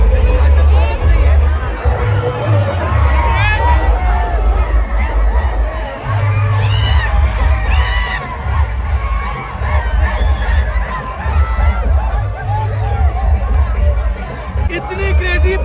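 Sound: huge crowd at Shiv Jayanti celebration, Aurangabad

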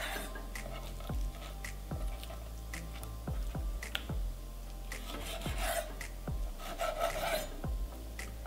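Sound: knife cutting hake fish fillet into portions

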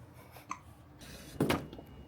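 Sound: baby hiccupping

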